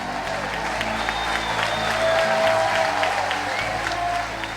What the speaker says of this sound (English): when he walked out on stage, people started cheering